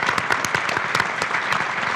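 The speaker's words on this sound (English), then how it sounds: "So I would just ask everyone to give him a round of applause." A conference audience claps steadily, dense and continuous, with individual claps popping out sharply throughout.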